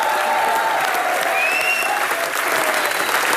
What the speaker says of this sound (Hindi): इसके लिए तो जोरदार तालियां